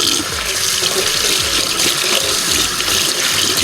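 A makeup sponge is rinsed under a running tap, making a loud, continuous rush and splash of water for a few seconds with no voices.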